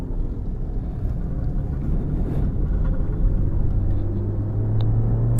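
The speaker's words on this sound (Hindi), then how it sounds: "जो ड्रैग के साथ ही साउंड आता है ना सडन इंजन साउंड" A stock Maruti Swift VXi automatic engine drones with a low, steady rumble under acceleration, heard from inside the car, its pitch gradually rising toward the end.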